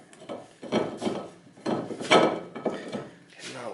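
A Nissan front brake disc, from a car built between 1995 and 2016, is shifted into place against the hub with metallic scrapes and knocks. Several irregular clanks and rubs sound close up, with no talk.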